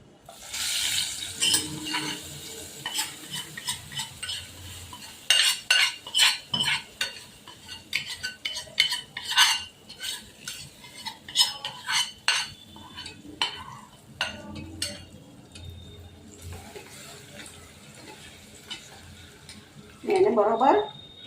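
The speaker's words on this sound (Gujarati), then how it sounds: "એને બરોબર હલાવી લઈએ." A spoon stirs a tamarind rice mixture in a pan with tempering, making scattered metallic clinks and scrapes in bursts, quieter stretches between, and a brief sizzle near the end.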